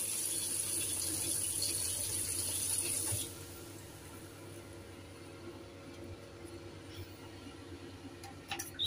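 Tap water runs over broccoli in a kitchen sink as a steady, close rushing splash for about three seconds, then cuts off, leaving a quieter low background hum.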